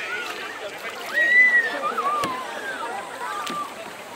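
Children paddle canoes on the Kanna River during a summer festival, with soft sloshing and splashes of paddles in the water under a speaking voice and distant high-pitched chatter.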